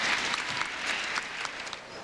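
An arena crowd at a figure skating championship applauds a skating pair, steady dense clapping filling the hall with faint voices mixed in.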